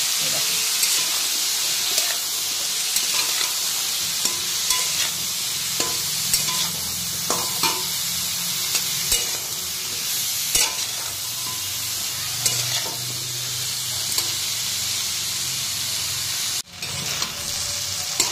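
Vegetables fry and sizzle in a pan with a steady hiss throughout, punctuated by repeated scraping and clicking stirs of a spatula, close and fairly loud.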